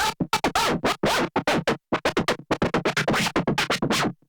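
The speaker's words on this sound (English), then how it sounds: "emulate like crossfading or crabbing or whatever the cool people call it" Rapid choppy crab scratching emulated in Ableton Live by muting, cut into short bursts, with a fast stuttering rhythm of many quick chops. Loud and close, no voices.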